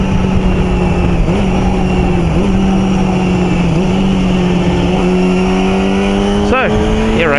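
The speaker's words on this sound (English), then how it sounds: "Brought the bike out some of the back roads" A motorcycle engine drones steadily while riding along rural back roads on a coastal route, with wind rush and gear changes marked by brief pitch dips; a rider's voice is faint under the continuous engine noise.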